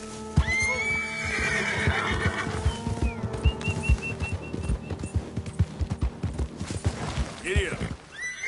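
Horse hooves clip-clop in a steady rhythm while the horse neighs and whinnies in Red Dead Redemption 2, close and prominent, with a rider urging it on by voice.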